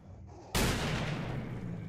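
Shotgun blast in a first-person video game, one sudden loud boom close up followed by a long rumbling decay that fills the rest of the moment, no talk over it.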